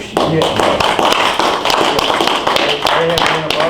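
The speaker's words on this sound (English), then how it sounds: "I think we need an applause for the new Maverick County Commissioners" Applause in a city council meeting for newly seated Maverick County Commissioners, a dense patter of many hands clapping steadily throughout, close and fairly loud, with some voices murmuring beneath it.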